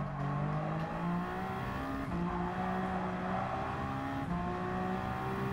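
A Toyota GR010 Hybrid race car in Gran Turismo 7 drones at high revs, its engine tone dipping under braking and rising again with acceleration, loud and continuous with faint tire squeal.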